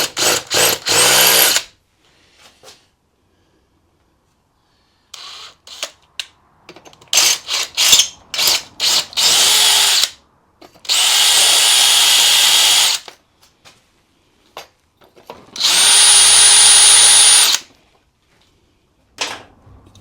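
Power drill with a 5 mm bit boring out a damaged M6 thread on a bike, heard in several loud bursts of whirring and grinding separated by pauses and short clicks.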